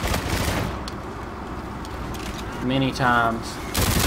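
Gunfire from a Volk Goliath weapon in a shooter video game, a dense burst of shots with slow fire rate over game background noise, while someone talks briefly over it near the end.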